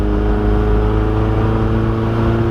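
A Porsche 944 engine held at full throttle, a loud continuous low droning roar with steady harmonic tones, heard close from inside the car with no speech.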